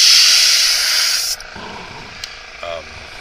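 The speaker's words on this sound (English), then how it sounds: "This is an entry level airbrush, by the way." An entry-level airbrush fed by a compressor sprays paint in a steady, loud hiss for over a second, then cuts off, leaving quieter background rustling and a few small clicks.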